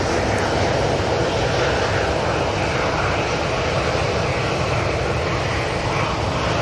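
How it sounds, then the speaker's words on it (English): A Qatar Airways airliner on the runway at Manchester Airport produces a steady, loud engine roar and broadband rushing that holds constant throughout, heard from a distance outdoors with no voices. "Qatar Airways has pinged up. Let's hope it gets out on this runway."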